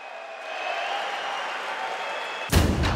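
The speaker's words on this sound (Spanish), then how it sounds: "Que se escuche el aplauso, Monterrey, por el campeón" Sustained crowd applause and cheering fill an arena for the champion at an MMA event in Monterrey, a broad, steady roar of clapping, then a sudden loud thumping burst near the end.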